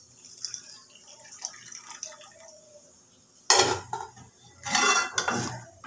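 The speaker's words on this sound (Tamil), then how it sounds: "இப்போ நம்ம எடுத்து வச்சுருக்க புளி தண்ணியை சேர்த்துக்குவோம்." Tamarind water pours and splashes into a pot of boiling ladies finger gravy in two loud bursts after a quiet stretch of faint clinks and simmering.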